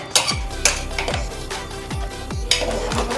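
A spoon works through mutton curry with potatoes in a pot, making repeated scraping strokes with small metallic clinks in a steady rhythm, close and fairly loud, with no talk.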